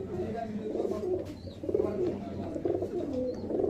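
Pigeons at a market stall coo in a steady, overlapping low murmur, with several birds close by and a few faint higher chirps above the continuous cooing.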